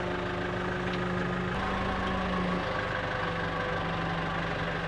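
A tractor engine runs at a steady idle, a continuous low rumble with a faint hum, heard close and unbroken with no talk.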